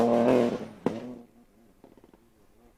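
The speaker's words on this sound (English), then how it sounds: "I love the sounds of these R4 cars." An R4 rally car at a stage rally roars loudly past, its engine note peaking and then fading into distant, lower rumbling with a brief sharp clatter midway.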